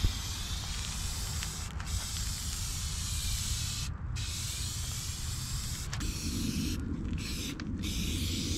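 Continuous hiss of a spray can laying a second coat of paint on a snow plow, loud and close with brief pauses between passes, no talking.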